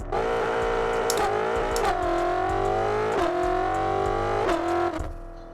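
A new car in the racing game No Hesi starts up and revs, a loud, near engine note rising and falling in several repeated pulls before cutting off.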